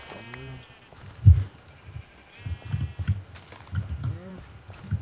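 Sheep in the Minecraft video game bleat in short wavering calls, one near the start and another later, amid soft clip-clop thuds and a speaking voice.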